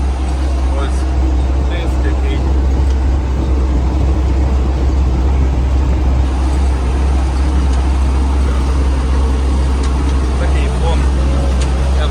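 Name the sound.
MTZ 892 tractor with disc harrow running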